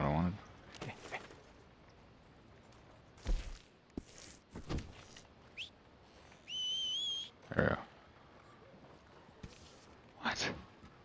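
A few sharp whistles for a horse in Red Dead Redemption 2 ring out among scattered footsteps and breathy sounds, including one sustained rising whistle near the middle.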